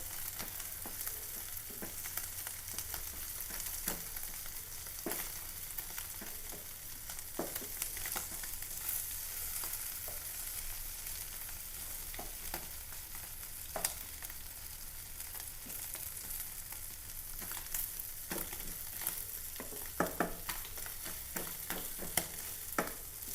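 Pallathi (orange chromide) fish frying in a pan with a steady, fairly faint hiss, broken by scattered small pops and crackles throughout; no voices.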